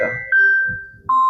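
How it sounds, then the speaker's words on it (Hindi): An incoming call rings on a mobile phone in a quiet setting, giving two clear electronic tones, each held steadily and then cut off, with a short gap between them. "ये फोन आ रहा है किसी का।"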